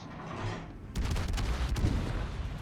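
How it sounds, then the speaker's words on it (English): A Tier IX battleship Illinois in World of Warships lets off a main gun salvo during the Cherry Blossom operation, a sudden heavy booming blast followed by rumbling, crackling report and sharp impact cracks. "And first salvo out."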